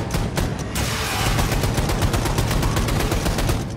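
Rapid automatic gunfire from a weapon in the shooter Wolfenstein II: The New Colossus, a dense, loud, continuous burst of repeated shots with a rattling, even rhythm lasting the whole stretch, no talking over it.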